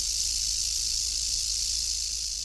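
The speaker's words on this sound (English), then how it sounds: "this is a rattlesnake that we recorded last spring somewhere else" A rattlesnake rattles in an outdoor field recording, a steady, dry, high-pitched buzzing hiss that runs unbroken throughout, close and clear with no voices.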